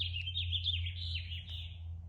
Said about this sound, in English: Why's that bird got to be so loud right now?